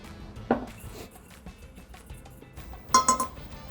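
A spoon clinks against a bowl as sesame ginger glaze ingredients are stirred together, with a couple of louder taps and clatters amid quieter swishing.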